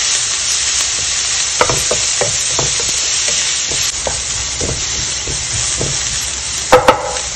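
Onions frying and being stirred in a pan, a steady close sizzle with repeated scraping stirs and a couple of sharper knocks near the end; no talking.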